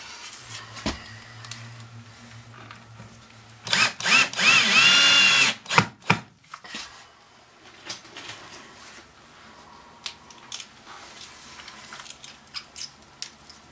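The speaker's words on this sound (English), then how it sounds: "I'm gonna screw that down." Power drill driving screws down through a raised toilet flange above a new tile floor, with one loud, close whirring burst of a few seconds followed by scattered clicks and handling noise.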